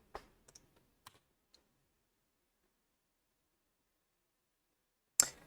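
A few sparse, faint clicks from a computer keyboard come in a short cluster while someone types and presses backspace in a code editor, followed by a long silence and one sharper click near the end.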